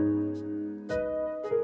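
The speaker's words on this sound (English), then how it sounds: "for the hi-hats I just made them hit in every 4th step sounding like this" Short bursts of bright hi-hat noise, programmed in FL Studio for a lofi beat, land every fourth step over a sustained, layered synth and bass bed, loud and close.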